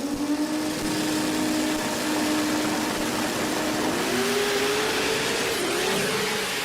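A twin-turbo Mitsubishi Eclipse drag car with a billet 4G63 four-cylinder and seven-speed gearbox accelerates hard down the strip, its loud, steady engine note climbing in pitch through the run with no talk over it.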